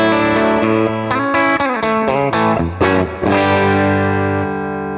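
An electric guitar plays chords and a short melodic line through a BOSS Nextone Stage 40W amp's 6V6 power amp simulation, a warm, overdriven tone with chorus-like shimmer, loud and sustained.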